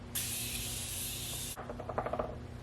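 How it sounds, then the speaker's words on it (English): A Morphe setting mist sprays in one continuous hiss lasting about a second and a half, close and loud, then stops and is followed by a few soft taps and rubbing sounds. "that was just the spray, the mist spray from Morphe, so that I can hold everything together"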